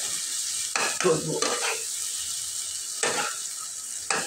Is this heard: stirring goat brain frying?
yes